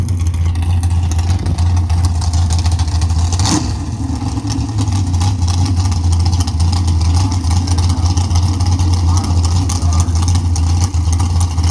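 Mopar dragster race car idling before a test run, its engine rumbling in a loud, steady, deep drone close by, with a brief sharp burst of noise partway through.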